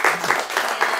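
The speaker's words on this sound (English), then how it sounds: "Let's all give a round of applause to Sirena" Audience applause closing an artist talk, a short burst of many hands clapping in a dense wash that swells in several pulses, fairly close and loud, with no talk over it.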